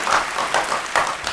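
A carnival crowd applauds the 2013 LVK winners, La Bamboe Montfort, with brief rhythmic clapping in quick pulses, close and moderately loud, lasting only a moment.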